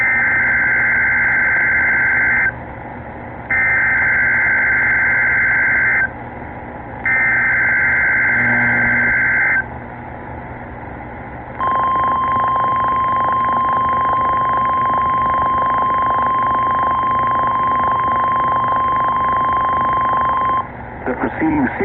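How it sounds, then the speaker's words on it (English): A NOAA Weather Radio All Hazards warning test from station WXK-49 sounds loud: three bursts of harsh data tones separated by short gaps, then a long steady alert tone that holds for about nine seconds before it stops. "The preceding signal was a test of the NOAA weather radio all hazards warning system"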